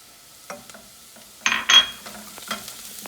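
Vegetables with thyme sauté in a pan for a Mediterranean quinoa salad, giving quiet frying with a few spatula clinks and two louder scraping stirs near the middle, close up with no voices.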